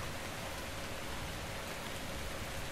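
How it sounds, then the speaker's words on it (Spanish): Steady rain falling in the video game Metro Exodus, a dense, even hiss of drops on surfaces that holds at a constant level throughout with no talk. "La verdad que mola bastante la lluvia"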